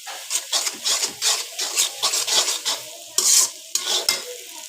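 Onions frying in a pan with about two spoons of salt, stirred in rhythmic scraping strokes over a loud, close sizzle, alone without voices.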